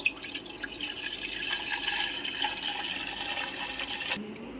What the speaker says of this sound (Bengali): সেই পাত্রতে আমি দুধটা ঢেলে দেব।